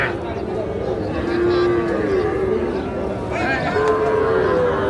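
Calves moo in drawn-out, low calls, one after another, over a noisy crowd of talking people at a cattle market in Netrokona.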